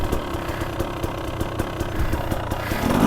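A Gas Gas MC300 two-stroke dirt bike engine runs on a woods loop. It idles with a steady, rapid pulsing close to the mic and builds slightly toward the end.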